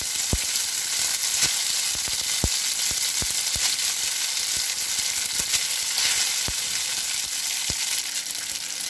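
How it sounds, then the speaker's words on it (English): Chow mein noodles frying in hot oil in a pan, a loud continuous crackling sizzle close up, punctuated by sharp pops and clicks scattered throughout. "we want to turn that heat down to low and put in our noodles"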